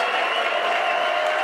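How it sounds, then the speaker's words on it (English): Steady, dense applause from a tasting masterclass audience at a whisky festival fills the whole moment, with no speech over it. "if you've got one more round of applause in you"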